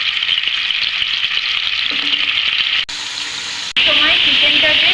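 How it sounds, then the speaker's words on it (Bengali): Chicken pieces sizzle in hot oil in a pan over low heat, a steady close crackling hiss that drops away for a moment and then returns louder. "তেলের মধ্যে আমি চিকেনের পিস দিয়ে দিচ্ছি। দিয়ে হালকা আঁচে একটু ভেজে নিচ্ছি।"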